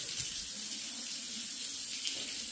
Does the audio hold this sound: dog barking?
no